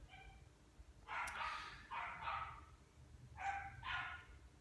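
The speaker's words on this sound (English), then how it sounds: "There's a dog outside, and it's distracting." A dog outdoors barks in two pairs of yapping barks with pauses between them. It sounds moderately distant against a steady low background hum.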